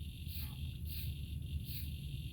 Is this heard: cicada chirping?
yes